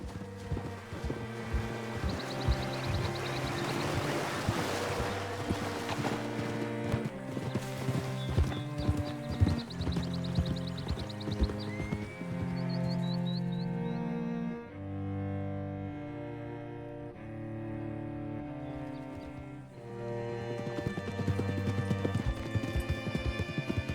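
Horse hooves clip-clop steadily in Red Dead Redemption 2, a regular trotting rhythm at close range over a continuous orchestral music score, with a brief whinny-like sound and no talk.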